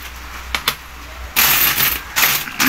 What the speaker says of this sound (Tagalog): Bilang na lang tayo ng barya habang nag-chika-chika